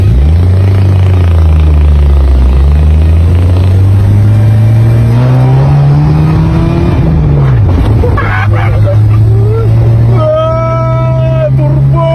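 Car with its turbo on pulls away in first gear, a loud close engine drone rising steadily in pitch, then easing off with a brief dip before revving again, with turbo whistle near the end.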